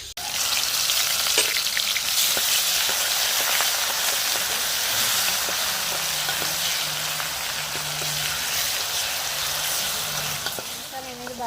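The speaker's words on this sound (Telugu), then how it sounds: "అల్లం వెల్లుల్లి పేస్ట్ కూడా ఇంకా ఆయిల్లో వేసుకొని పచ్చివాసన పోయేంత వరకు అయితే బాగా ఫ్రై చేసేసుకుందామండి" Steady, loud sizzling of ginger garlic paste frying in hot oil, continuous crackle throughout with a few faint clinks of stirring.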